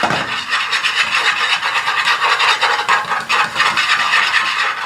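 A spatula scrapes and scrambles eggs in a pan, a continuous raspy stirring with quick rhythmic strokes, close and fairly loud with no talking.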